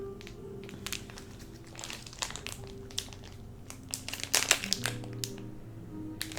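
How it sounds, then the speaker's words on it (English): Crinkly plastic packaging on scented wax melts being unwrapped, a quiet stream of close crackling and crumpling with sharper rustles toward the end. "let me unwrap them real quick"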